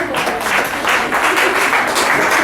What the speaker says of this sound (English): clap hands for him.